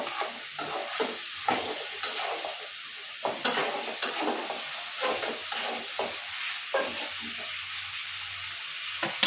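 Papaya and potato are stirred with spices in a pan, giving a steady sizzle with repeated scraping strokes of a spoon against the pan at a regular rhythm.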